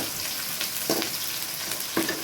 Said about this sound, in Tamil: இப்போ நல்லா ஃப்ரை ஆகட்டும்